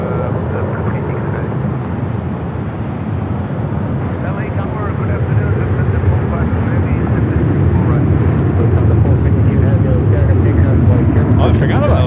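Aircraft landing on runway 24 right at LAX, a steady low rumbling roar that swells slightly as it nears, with people talking over it.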